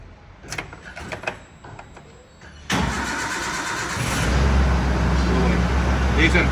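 A modified ex-army Maruti Gypsy jeep fires up on the first turn of the starter after a few quiet clicks and handling sounds, then settles into a loud, steady idle close to the mic, its rumble rising slightly.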